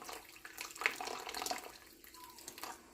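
Vinegar poured into a canner full of water with jars inside, a faint, close liquid trickle and splash lasting a few seconds with no talking.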